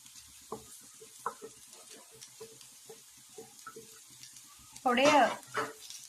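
Rice and vegetables for veg fried rice being stirred in a hot pan, soft intermittent scraping and light clatter at first, then a loud burst of sizzling near the end, with faint talk in the background.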